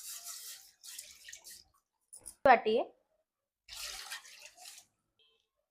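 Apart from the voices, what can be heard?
water poured into rice flour for butter chakli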